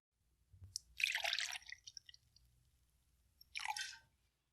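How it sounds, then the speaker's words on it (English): Two ounces of light rum poured into a cocktail glass filled with cotton candy: a longer splashing pour, a pause, then a second shorter burst of liquid, close and fairly quiet, with no talking. "then you pour 2 ounces of light rum"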